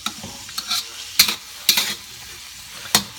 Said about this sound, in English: we're just going to let that simmer